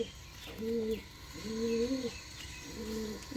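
Pigeons with closed, muffed tails cooing in repeated low, throaty phrases, three bursts spaced about a second apart, fairly close, with no talking over them.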